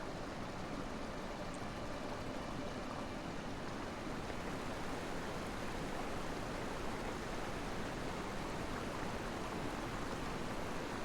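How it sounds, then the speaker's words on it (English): Loud waterfalls in the video game Taiji, a dense, steady roar of rushing water that holds unbroken and even throughout, with no voices. "This is very loud waterfalls."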